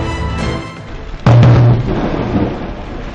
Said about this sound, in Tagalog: Biglang nagliwanag at animoy umulan ng baga nang tamaan ng kidlat ang isang poste sa Malabon.